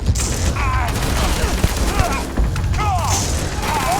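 Rapid gunfire in the video game Starfield, dense bursts of shots and booms, loud and close, with faint shouting mixed in.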